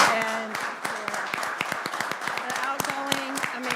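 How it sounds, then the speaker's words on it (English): Audience applause at a town council meeting, a round of scattered clapping heard with voices talking over it throughout. "Can we just have one more round of applause for Lynn and Rebecca"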